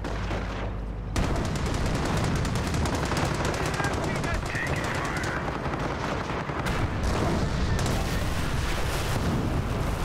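Dense, sustained machine-gun and rifle fire with heavy artillery-like blasts rage through a Company of Heroes battle in the St. Fromond campaign, loud and continuous after a brief quieter opening, with a voice shouting over the din.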